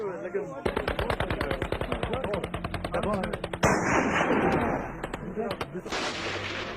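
Tribesmen fire guns in the Khyber Pass in rapid automatic bursts, a long rattling string of sharp shots followed by a heavier, denser volley and scattered single cracks, loud and close.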